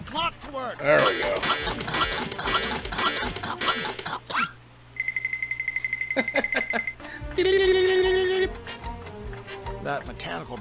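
Repaired clock in the Toonstruck point-and-click game, set back in working order, with a steady run of short mechanical ticks in the middle alongside musical game sounds, followed by a sustained tone; talk and music surround it.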